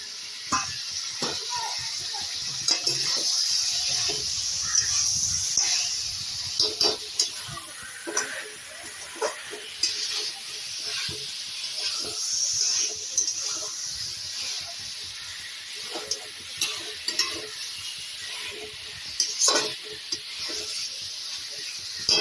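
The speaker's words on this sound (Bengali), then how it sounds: "আমি চিকেন ভাজাটা দিয়ে দিচ্ছি।" Pieces of fried chicken are tossed into a sizzling, oil-rich spice masala for Shahi Mughal chicken, with a constant close hiss of frying punctuated by repeated scrapes and knocks of a spatula stirring the pan.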